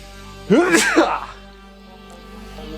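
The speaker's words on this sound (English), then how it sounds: "Ninja sneeze." A single stifled sneeze close to the microphone, a short sharp burst that quickly fades back to a quiet room hum.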